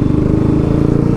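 Stage 1+ tuned, ECU-remapped KTM/Bajaj NS 200 motorcycle engine pulling hard, a loud, steady close-up drone with a fast low pulsing throb and no voices.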